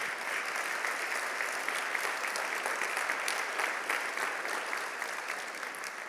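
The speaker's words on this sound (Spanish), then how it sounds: "Dale palmas al Señor" Congregation clapping in a church, a steady dense applause that fills the whole stretch at even strength without pause.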